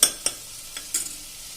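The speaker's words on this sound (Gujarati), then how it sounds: "હવે આપણા કાંદા પણ સંતળાઈ ગયા છે સરસ, બધું પેસ્ટ ને બધું સરસ સંતળાઈ ગયું છે।" Onions and spice paste sauté in a pan, with about four sharp spoon scrapes against the metal over a soft, quiet sizzle.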